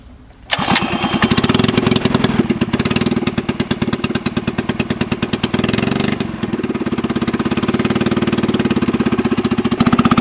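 A 79cc Predator small engine on a Schwinn OCC chopper bicycle starts up and runs with a loud, rapid popping exhaust through a straight pipe, close by and steady, briefly dipping before picking back up, with no talking.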